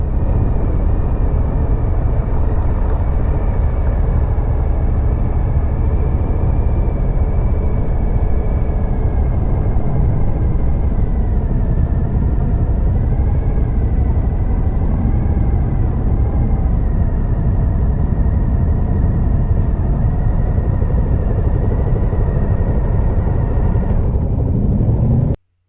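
A 2022 Suzuki V-Strom 1050XT Adventure being ridden at an easy pace, giving a loud, steady, rumbling engine drone with heavy wind buffeting throughout. The engine pitch wavers slightly as the bike rolls along.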